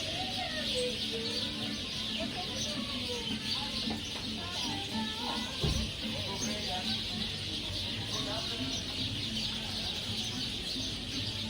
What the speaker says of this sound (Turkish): Gerçek kuş sesi bunlar.